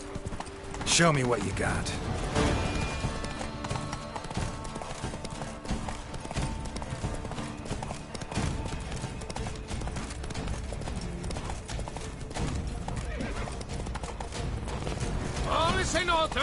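Roach the horse's hooves clop rhythmically in The Witcher 3: Blood and Wine, mixed with mechanical clanks and ambient game sound while a character speaks briefly.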